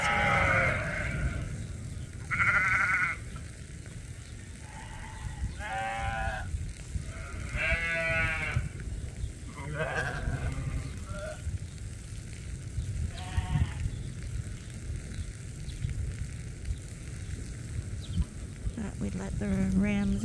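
Sheep bleat on a farm, with several wavering calls scattered across a steady background of rumbling noise, and some voices faintly present.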